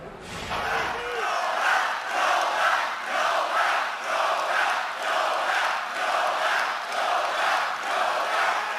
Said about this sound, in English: Listen to what the crowd was chanting at the president.